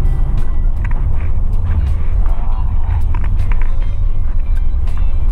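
Steady low engine rumble from a bus in motion in city traffic, loud and continuous with faint rattles and higher road noise throughout.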